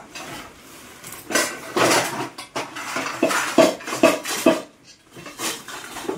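A large metal kadai and other pots are handled for a feast, giving bursts of clanking and scraping metal at close range with short pauses between the clatters.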